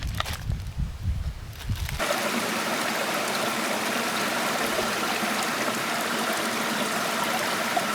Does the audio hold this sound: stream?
yes